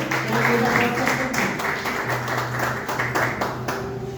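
A church congregation applauds with steady, dense clapping throughout, a voice faintly audible underneath.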